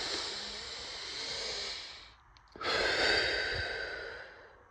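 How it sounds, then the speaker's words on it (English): Slow, deep breathing up close: a long airy inhale, a brief pause, then a full breathy exhale, calm and unhurried with no words. "Just take a breath together."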